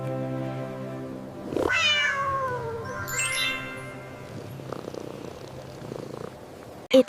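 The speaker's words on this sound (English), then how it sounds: "It's a cat." A cat gives drawn-out meows over a low, steady purr, loud and close at first and then fading to a softer purr, with a brief sharp noise at the very end.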